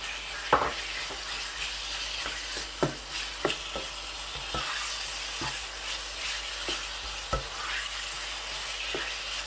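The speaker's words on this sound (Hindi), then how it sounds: "इस मौके पे मैं चिकन जो है वो ऐड करूँगा इस तरीके से।" Chicken is stirred into sizzling gravy in a pan, with a steady frying hiss broken by several sharp scraping and clacking stirring strokes, close up.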